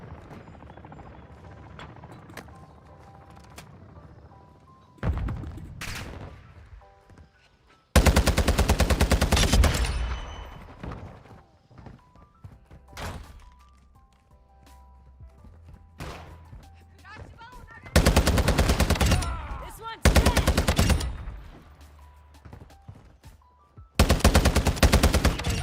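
Shotgun gunfire in a video game match, arriving in several loud, dense bursts separated by quieter stretches where a voice talks over game sounds.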